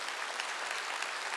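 A church congregation at a Wednesday worship service claps, a dense, steady wash of many hands that fills the whole moment without a break.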